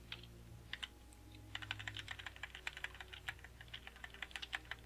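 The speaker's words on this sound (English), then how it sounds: "You can do it pretty quick with a keyboard." Computer keyboard keys clack in quick, rhythmic bursts with short pauses between them, quiet and close, during a Dwarf Fortress game session. No voice is heard.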